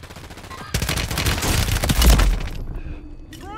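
A dense, loud burst of rapid automatic gunfire erupts in the Warzone video game, sustained for a couple of seconds before cutting off, followed by fainter battlefield noise.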